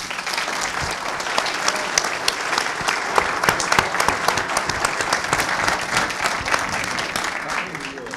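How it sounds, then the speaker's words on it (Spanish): An audience at a local history talk in Guadalupe applauds an invited chronicler: sustained, dense clapping from a sizable crowd, fairly loud and even throughout, with a little voice murmuring underneath. "Un aplauso para él."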